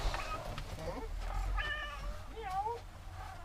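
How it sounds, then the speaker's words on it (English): A house cat meows several times in a rising, drawn-out way close by, with a person talking alongside it and low background rumble throughout. "Kitty wants down."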